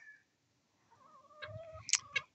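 Soft clucking and a few sharp squawky calls from chickens close by, rising toward the end after a quiet start.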